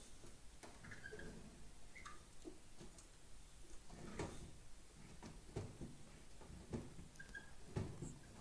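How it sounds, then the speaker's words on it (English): A jammed drawer is pushed shut through repeated faint knocks and scraping clunks, spaced irregularly over several seconds against a quiet room. "Which has the most annoying drawer, which takes some time to close."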